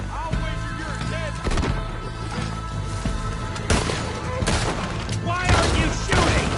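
A Red Dead Redemption 2 shootout with rapid overlapping gunshots and heavy booming blasts in irregular bursts, loud and close, alongside other battle noises.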